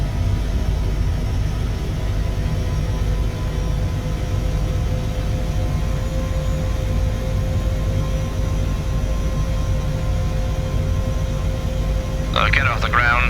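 Airbus H160 helicopter engines and rotors running up on the ground before first-flight takeoff, a loud steady broadband roar and whine throughout, with a short burst of voice near the end.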